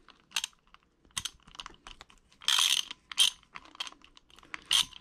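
A 10mm socket wrench backs a bolt off a 13 Inception fishing reel, giving short irregular bursts of ratcheting clicks with quiet gaps between, close and fairly soft.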